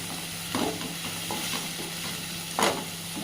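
Soft bubbling and sizzling from Kerala-style prawn curry simmering in a pan on the stove, with a couple of brief stirring scrapes and a steady faint hum behind it.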